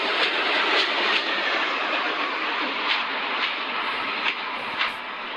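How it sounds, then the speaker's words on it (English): An Indian train rolls in alongside a platform with a broad, loud, steady roar and faint rhythmic wheel knocks, fading slightly toward the end. "There's the train has arrived."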